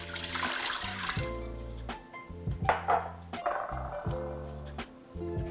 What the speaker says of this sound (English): I am going to add in some water here.